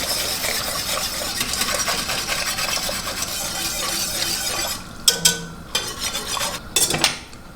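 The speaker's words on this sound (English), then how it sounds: "So I'm just going to whisk it in." A whisk stirs stock base into soup in a metal pot at home while making chicken and biscuits, a steady soft scraping that gives way near the end to several sharp clinks of metal on the pot.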